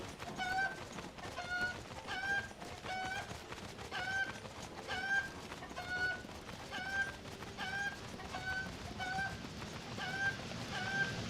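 Cucco chicken from a Zelda game clucking over and over in a steady, regular rhythm, each short squawk evenly spaced against soft outdoor game ambience.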